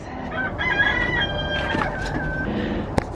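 Chickens cluck and crow close by, several birds, including white Delaware broilers, overlapping in a busy, continuous chorus with a sharp knock near the end.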